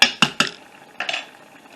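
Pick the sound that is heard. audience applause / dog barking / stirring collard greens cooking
stirring collard greens cooking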